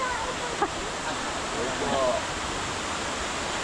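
Steady rush of Balagbag Falls waterfall, a broad continuous wash of falling water heard from a short distance along the approach trail, with faint voices briefly under it.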